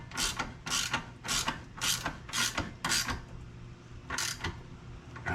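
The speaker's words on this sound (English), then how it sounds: "I'm just going to hand tighten here using these wrenches" A wrench ratchets while hand-tightening a nut and bolt on the suspension of a 991.2 Porsche 911 Carrera S: about eight quick clicking strokes in an irregular rhythm, close and fairly quiet, with no talking.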